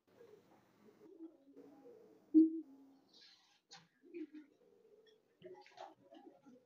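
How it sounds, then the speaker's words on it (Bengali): Kamagar pigeons, a red-eyed breed, give soft low coos in short, uneven phrases with brief pauses between them, quiet and close by, alone with no talking. "এবার দেখাই আমার আরেক জোড়া প্রিয় কবুতর কামাগার"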